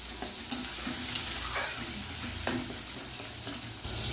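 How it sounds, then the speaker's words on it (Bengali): Rohu and aila fish fry in hot oil while spices are sautéed alongside, giving a continuous close sizzle with a few sharp scraping and tapping strokes of a spatula, no one speaking. "একদিকে কিন্তু মাছ ভাজা হচ্ছে আর একদিকে কিন্তু মশলা কষানো হচ্ছে"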